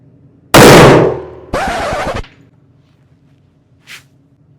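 Two loud rifle shots fired close together at a range with reduced handloads, each a sharp broadband blast with a decaying tail, followed by a brief faint clink a moment later.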